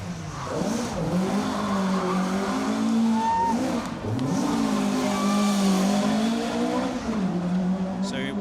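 A rally car spins donuts on an asphalt stage of Rally Ceredigion 2023, its engine revving hard in rising and falling surges while the tires squeal, with a voice talking over it.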